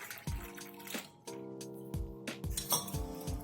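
A metal spoon clinks repeatedly against a glass while stirring sharbat with water, giving bright, ringing taps in an irregular rhythm, close and clear.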